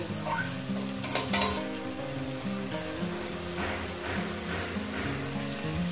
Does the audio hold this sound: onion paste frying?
yes